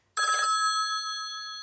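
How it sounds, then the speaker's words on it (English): A funny phone ringtone from a ringtone app starts abruptly with a bright electronic ring: a short buzzy burst, then sustained pure ringing tones that hold steady and slowly fade, loud and close with no voices. "Pick up the phone, pick up the phone"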